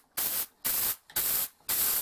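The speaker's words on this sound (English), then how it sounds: "I'm just going to basically protect everything else and spray directly onto that bearing" Four short bursts of aerosol lubricant are sprayed directly onto a tail bearing of a Goblin model helicopter, each a loud, close hiss of about a third of a second separated by brief silences.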